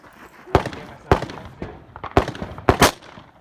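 Rifle shots fired at long-range flash targets on a shooting stage ring out as a series of about five sharp, loud cracks at irregular intervals, with some background noise between them.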